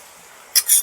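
A spoon scrapes and clinks twice in a pot of chicken coated in sour yogurt, two short bright strokes close up after near silence.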